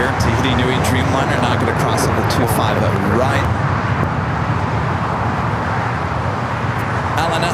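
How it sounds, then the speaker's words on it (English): A Delta Boeing 737-900ER takes off at LAX with a broad, sustained jet roar as someone talks over it. "That is Delta Airlines 508 taking off to Raleigh-Durham on the 737-900ER."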